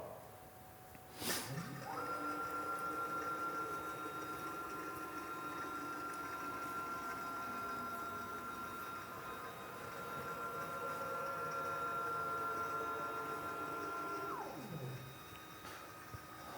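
The motorized frame of an Autel IA1000 ADAS calibration system moves its target into position for a 2019 Toyota RAV4 windshield camera, giving off a faint, steady electric motor whine that ramps up, holds for about twelve seconds and winds down.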